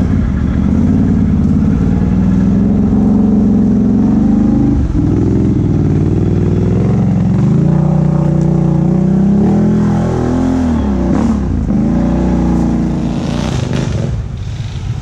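Dirt bike engines revving on an off-road trail: loud, continuous close-up engine drone throughout, pitch rising and falling as the throttle is worked, with sharper blips later on.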